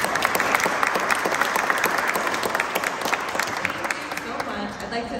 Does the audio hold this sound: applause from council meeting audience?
yes